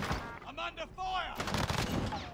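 Rapid gunfire in Call of Duty: Rebirth on Fortune's Keep, close loud bursts and shots with voices mixed in.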